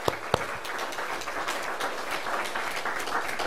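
Church congregation applauding during a thanksgiving installation service: a steady wash of many hands clapping at moderate volume, with a couple of sharper claps near the start and no speech over it.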